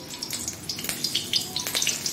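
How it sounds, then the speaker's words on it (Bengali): Green chillies frying in white oil in a wok crackle and sizzle with sharp pops scattered over a soft hiss, close and moderately loud, with no talking. "কড়াইতে সাদা তেল দিয়ে এর মধ্যে আমি কাঁচা লঙ্কা দিয়ে দিচ্ছি।"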